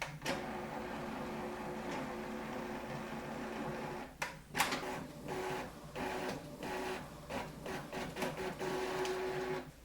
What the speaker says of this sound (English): the tray will come out automatically. It has a motor that will push it out.